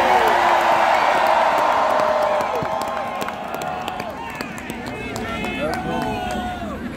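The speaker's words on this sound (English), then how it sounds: "the largest crowd in the history of Groundhog Day" Large crowd gathered outdoors for Groundhog Day in Punxsutawney, a loud roaring babble with cheers and claps that eases slightly but stays dense throughout, with voices audible in the mix.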